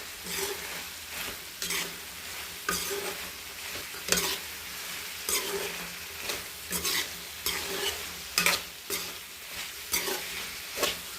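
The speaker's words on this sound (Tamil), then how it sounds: "இதையும் எடுத்து போட்டுக்கலாம் நல்லா கிளறி விட்டுக்கலாம்" Liver fry with grated coconut, dried chillies and pepper being stirred in a pan, soft sizzling broken by repeated sharp scrapes and knocks of the spoon at a steady, unhurried rhythm, close and clear with no talking.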